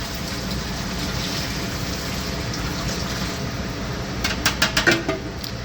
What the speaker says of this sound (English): then we've got our 4 quarts of water.